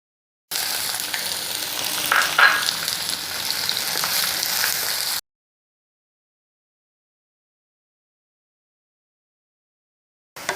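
Chopped onions and garlic frying in a pan for a baby potato fry, a steady loud sizzle with faint stirring for several seconds, then silence, with a short burst at the very end.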